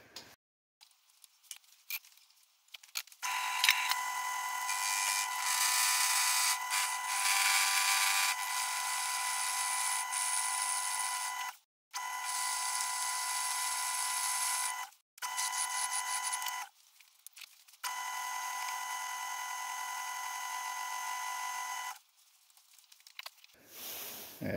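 A metal lathe cutting the head off a nut during a Ford Escort MK1 restoration, several bursts of high, ringing whining cut separated by short silent pauses, close and fairly loud, no talk.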